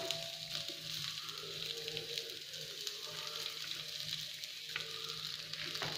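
Plantain cutlets frying on a dosa griddle over low heat give a steady, close sizzle with faint crackles throughout, no voices present.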